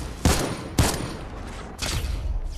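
Three loud, sharp hunting rifle shots in Fortnite, spaced about three-quarters of a second then a full second apart, each with a short echoing tail.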